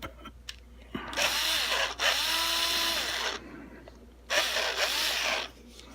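A power drill bores into a Squier Bullet Telecaster pickguard in two loud, whining bursts with a pause between them, the motor pitch dipping as the bit bites into the material.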